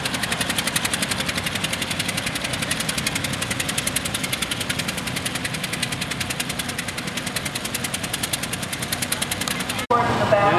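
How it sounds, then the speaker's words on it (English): An antique high wheeler motor wagon, essentially an old horse wagon fitted with an engine, runs with a steady rapid knocking idle that continues close and even before a sudden jolt near the end. "Pretty much an old horse wagon with an engine in her."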